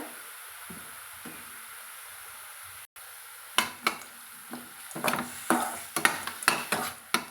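Pennywort fried rice ingredients sizzle in a hot pan while a spoon scrapes and stirs, soft at first, then busier irregular clatter of stirring strokes, close up.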